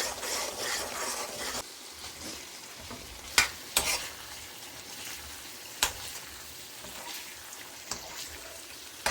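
Whole spices — black pepper, cumin and coriander — dry-roasting and being stirred in a pan, a soft steady hiss with several sharp scraping clicks, no talk.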